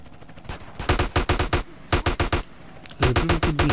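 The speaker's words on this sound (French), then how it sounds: "On va utiliser un peu le AK." AK rifle gunfire in the video game GTA San Andreas Remastered: rapid bursts of loud, close gunshots in three quick volleys separated by brief pauses.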